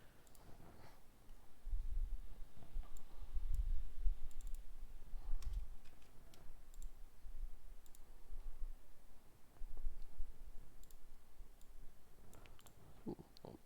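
Sparse, quiet computer keyboard clicks, single key taps scattered with pauses against a soft background hiss, no talking.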